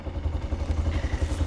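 A motorcycle engine runs nearby with an uneven, pulsing low rumble and some light clatter, no voices over it.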